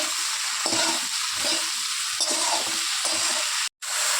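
Okra with salt and turmeric sizzles steadily in a pan while a spatula scrapes and stirs in repeated strokes, close and continuous, with a brief cut in sound near the end; no talking.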